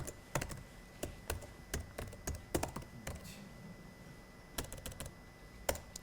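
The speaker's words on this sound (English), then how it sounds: "So I'm not used to this keyboard." Typing on an unfamiliar computer keyboard during a software programming talk: irregular, crisp keystrokes in short bursts, close and fairly loud, with a brief pause in the middle and no speech.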